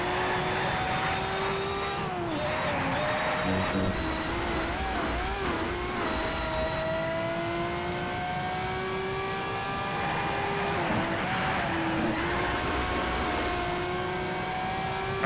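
A race car engine in Need for Speed: Shift on PS3 revs and accelerates through the gears, its pitch climbing and dropping at each shift, loud and continuous and close up, with no voices.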